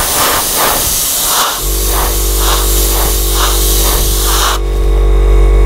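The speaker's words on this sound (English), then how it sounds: "I'm just going to spray it along the wing roots here." Airbrush spraying Tamiya LP11 silver lacquer at low pressure along the wing roots of a Kotare Spitfire Vb scale model, a loud, steady close-up hiss with a constant compressor-like hum underneath.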